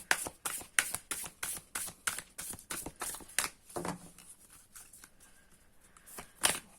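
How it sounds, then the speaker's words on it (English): Tarot cards from a Moonology deck being shuffled by hand, a quick run of crisp, rhythmic riffling taps that loosen and thin out midway, then one last sharp burst near the end, close and clear with no talking. "Let me shuffle."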